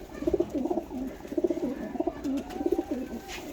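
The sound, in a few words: pigeon cooing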